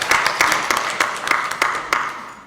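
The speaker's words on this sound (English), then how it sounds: "Now you can clap." Sparse, uneven hand clapping from a small group at a board meeting, a handful of sharp claps spread across a couple of seconds with no voices.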